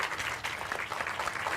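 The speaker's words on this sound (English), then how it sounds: "Can you hear this applause coming through the phone?" Applause relayed through a phone on a live call-in line sounds faint, thin and muffled, a continuous wash of clapping with no voices over it.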